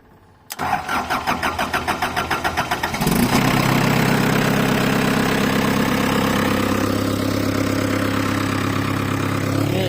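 A large excavator diesel engine, running rough, cranks with rapid rhythmic chugs, then catches and settles into a loud, steady rumbling idle close by.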